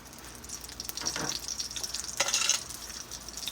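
Fish sizzles and crackles gently in a frying pan for a sandwich, with a couple of brief louder bursts as it is stirred or shifted. The sizzling stays fairly faint throughout, and no one talks.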